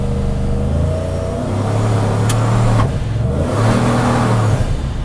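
A Chevrolet Silverado pulls hard from close by, its mid-pitched engine rising in revs, dipping briefly at the first-to-second shift as traction control intervenes, then climbing again, with no voices over it.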